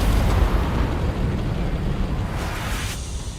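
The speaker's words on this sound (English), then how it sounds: "Those explosions you're hearing are the event." Explosions rumble during a crashed-ship capture event in the video game Dune Awakening, a dense, continuous low booming roar that stays loud throughout without speech.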